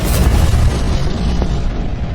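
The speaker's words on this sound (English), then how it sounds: "This massive kilonova explosion" A sound effect for a kilonova explosion from two colliding neutron stars: a loud, deep, continuous roaring boom with heavy rumbling low end that fills the whole stretch without letting up.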